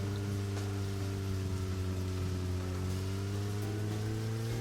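Steady rain falling in the horror game Deadly Premonition, an even hiss running throughout under a sustained low droning hum.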